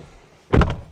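A car door on a BYD Atto 2 dm-i shuts with a single close, loud thunk after a quiet moment.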